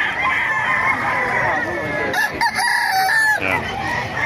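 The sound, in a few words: rooster crowing at Bocaue market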